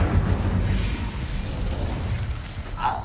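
The Incendio fire spell in Hogwarts Legacy makes a loud, gusty whoosh of rushing flame with crackling, mechanical-sounding bursts that roars steadily and then fades slightly near the end.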